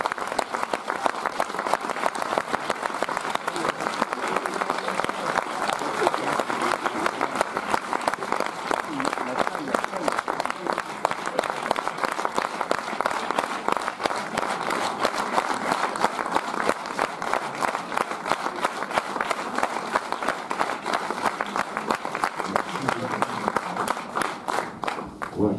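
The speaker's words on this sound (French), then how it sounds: "On peut l'applaudir très très fort" A packed cinema audience at a film premiere applauds the crew, dense sustained clapping running steadily throughout at moderate loudness with faint voices mixed in.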